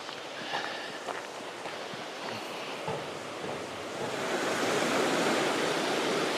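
A river rushes beneath a trail bridge on a Tennessee backpacking loop, a steady broadband hiss of flowing water that swells louder toward the end, with a few faint footstep-like knocks early on.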